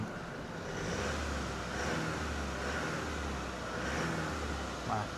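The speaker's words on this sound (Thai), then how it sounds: "มาเดี๋ยวฟังเสียงเครื่องยนต์กันนิดนึง เสียงมันจะนุ่มๆไหม" A 2017 Suzuki Carry 2.4-litre manual engine idles steadily with a low, smooth hum and faint rhythmic pulsing, continuous throughout with some background murmur.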